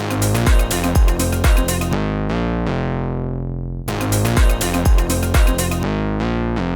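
Punchy Serum-synthesized brass stabs hit in a rhythmic phrase, with a long held chord ringing out and decaying before the stabbing pattern returns.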